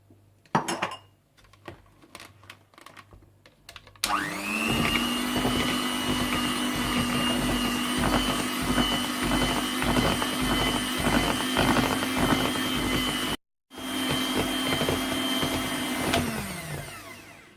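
Electric hand mixer beating butter, cream cheese, vanilla sugar, lemon zest and icing sugar into carrot cake frosting, a loud steady motor whine with beaters clattering against the bowl, briefly cutting off once before running on.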